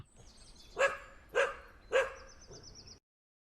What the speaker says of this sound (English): I know that there are some dog barks in the first 3 seconds.